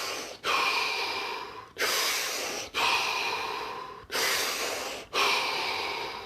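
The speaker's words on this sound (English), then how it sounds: "Take 3 deep breaths." Five deep, slow breaths during a guided relaxation exercise, each a loud close airy inhale-exhale rush separated by short pauses, with no talking.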